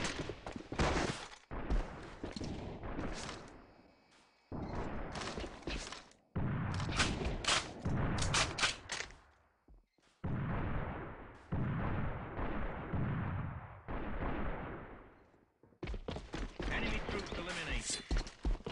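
Bursts of gunfire and grenade blasts in the shooter AVA come in heavy, loud clusters broken by short silences, with game voice callouts mixed in.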